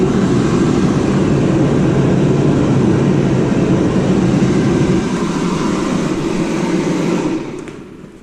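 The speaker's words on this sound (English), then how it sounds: "Sorry for the heater noise," A garage heater runs loudly, giving a steady, dense roar that fills the space without variation and then drops away near the end; no one speaks.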